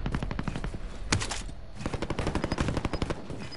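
Automatic gunfire in the video game Warzone crackles in rapid bursts, a sustained spray that breaks off briefly and then resumes in quick, evenly spaced shots.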